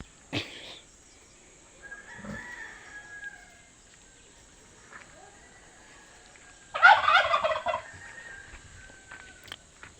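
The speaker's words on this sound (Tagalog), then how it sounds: "Ayan guys, yung mga manok yung dami." Chickens calling outdoors near a mountain in Loboc, Bohol: a few scattered clucks and gobbling calls, one louder burst near the end, against quiet background with a faint steady hum.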